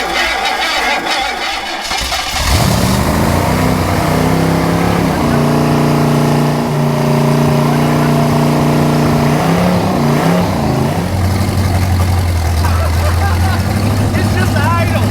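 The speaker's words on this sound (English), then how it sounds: "30 years at the bottom of the lake, and it fired up" The engine of a yellow submarine, sunk for 30 years at the bottom of a lake, cranks and fires up, then settles into a loud, steady idle with harmonic drone that shifts pitch slightly, people talking over it.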